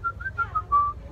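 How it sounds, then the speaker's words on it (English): A person whistles a short, wavering tune of several clear pure notes, fairly soft and alone over a low background hum. "Not a great whistler, but I can whistle that way."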